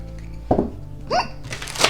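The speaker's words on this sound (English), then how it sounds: "That was a hiccup." A single short, close hiccup rises sharply in the middle, followed by a brief breathy sound.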